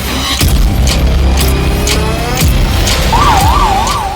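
Fire brigade sirens wail through a neighbourhood in Shalimar Extension, Alwar, during a fourth-floor flat fire; traffic noise rumbles throughout, and a clear, close rising-and-falling siren swells in the last second.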